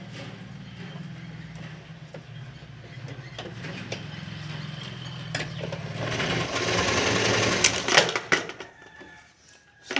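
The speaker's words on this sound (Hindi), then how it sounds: "अब हम इसी तरह दूसरे वाले कपड़े की भी सिलाई कर लेंगे।" Sewing machine stitching salwar fabric, a steady quick mechanical whir running close and fairly quiet, then rising into a brighter rush before trailing off near the end.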